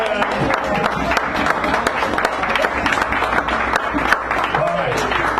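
Audience applause for a featured poet at a poetry hour in a San Francisco cafe, steady clapping mixed with crowd murmur and voices, fairly loud and close throughout.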